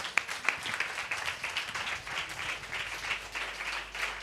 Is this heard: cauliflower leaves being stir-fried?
no